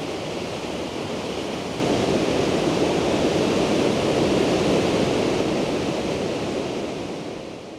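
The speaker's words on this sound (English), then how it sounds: "last night that waterfall was incredible. It's got to be the single most spectacular waterfall I think we've seen" A spectacular waterfall roars nearby, its spray reaching the listener: a loud, steady broadband rush of falling water, continuous throughout and growing louder after a slight jump early on.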